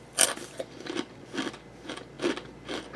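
Loud close crunching of Doritos Dinamita Mojo Citron rolled tortilla chips, about six distinct bites and chews in a steady rhythm, with no talking.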